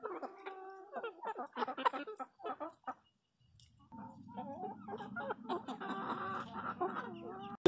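Embrapa 051 chickens cluck and chatter close by in a series of short, irregular calls. After a brief lull, a denser, busier stretch of clucking from several hens follows.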